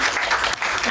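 The audience at a school district board meeting applauds in a short, thick burst of many hands at close range, with a brief dip midway and voices blended into the noise.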